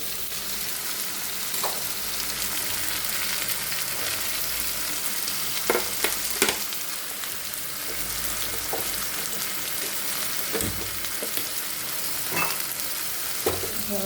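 Parboiled, drained potatoes fry in oil in a kadai, a steady broadband sizzle running throughout with occasional clinks and scrapes of a spatula stirring them, close and fairly loud, no talking.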